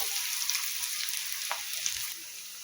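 Finely chopped onion sautéing in oil in a pan, a soft, steady hiss of frying with a few light stirring scrapes, close but fairly quiet.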